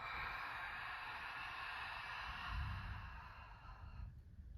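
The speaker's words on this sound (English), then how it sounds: "breathe out through the mouth, just like you're fogging a mirror" A slow exhale through the mouth as in a relaxation exercise, like fogging a mirror: a long, soft, breathy rush that swells and then fades, quiet and close, with no speech.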